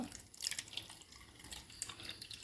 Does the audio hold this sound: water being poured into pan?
yes